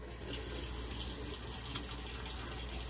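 Water runs steadily from a tap into a sink during face washing, a continuous close hiss with no voices.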